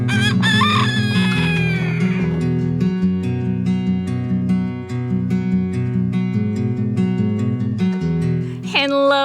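Backyard chickens crow loudly at the start and end, with clucking between, all set over steady tonal music.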